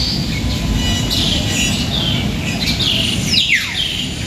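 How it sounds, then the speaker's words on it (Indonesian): Many birds chirp and tweet in a bird garden within a city park in Jakarta, a busy overlapping chorus over steady low background rumble. "Ini ada taman burung, banyak sekali burungnya sedang berkicau."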